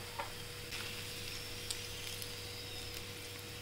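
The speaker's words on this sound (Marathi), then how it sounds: "तुपात व्यवस्थित त्याला काजू, बदाम, किसमिस ते तळून घ्या" Cashews, almonds and raisins frying in hot ghee, a steady soft sizzle with faint crackles and a few light ticks, close and even throughout.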